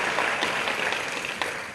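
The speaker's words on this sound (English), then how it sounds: "Round of applause for yourself." An audience of young delegates from more than 40 countries at the World Merit Summit in Morocco claps in a faint, steady wash of applause with no talk.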